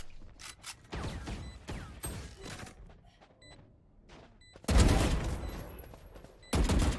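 Bursts of gunfire in Valorant, a tactical shooter, with scattered shots and mechanical clicks early on, then two loud sustained volleys near the end, close and dominant with no talk.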